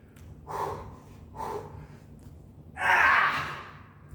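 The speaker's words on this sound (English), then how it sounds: "I'm already breathing hard because I'm tired from doing the weight training." Heavy breathing after weight training at a glute workout: two sharp breaths a second apart, then a longer, louder exhale, close and with no talk.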